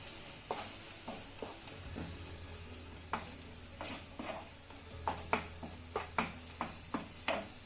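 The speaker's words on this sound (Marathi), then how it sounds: "आता हे घातलेलं वाटण आपल्याला भेंडीमध्ये दोन ते तीन मिनिटं पुन्हा छान असं परतून घ्यायचं आहे" Okra is sautéed with coconut paste in a pan, with soft sizzling under repeated light spatula taps and scrapes. The sounds grow quicker toward the end, close but fairly quiet, with no talk.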